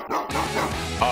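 A dog barks in an arcade video game, one short bow-wow and yelps sounding loud and close with a voice briefly overlapping.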